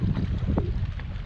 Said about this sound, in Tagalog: tahimik, alon lang yung mga naririnig mo.